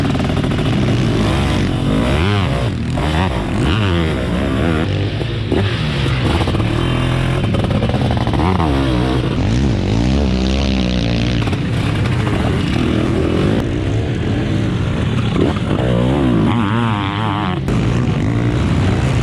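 A 700cc two-stroke sidecar motocross engine roars steadily through a race, loud and continuous with rising and falling revs and rasping exhaust, no pauses.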